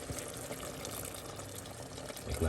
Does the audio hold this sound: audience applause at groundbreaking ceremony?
no